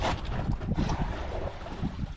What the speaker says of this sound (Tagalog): malayo tayo kasi medyo maalon tsaka may hangin na kunti